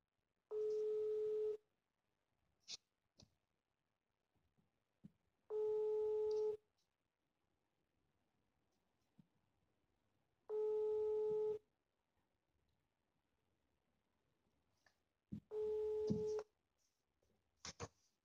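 Telephone ringback tone on a prank call going unanswered: four long, loud tone bursts about five seconds apart over a quiet line, with faint clicks and brief noises in the gaps.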